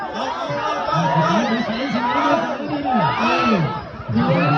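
A crowd at a Thai boxing match cheers and chatters loudly and continuously, with an announcer's excited voice riding over the noise.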